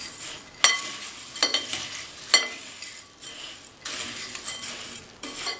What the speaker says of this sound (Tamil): இப்போ இதை கலந்து விட்டுறலாம்.